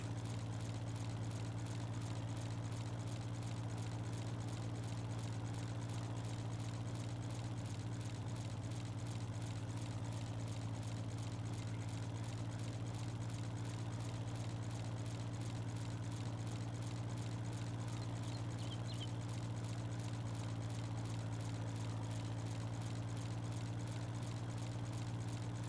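A tractor engine idles on a farm, a steady low rumble with a constant hum and even loudness that holds throughout without any talk.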